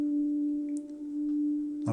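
A keyboard sustains a steady electronic tone while a foot pedal alters its reverb, holding one even note throughout, with faint small noises and a brief louder touch at the end.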